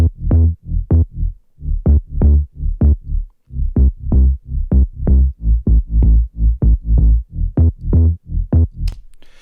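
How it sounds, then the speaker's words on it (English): A mono sine-oscillator synth bass with distortion and filtering pulses in a loud, choppy, rhythmic pattern of short throbbing notes, heard on its own for a remix. "I just used a sine oscillator and it's only one voice, it's in mono"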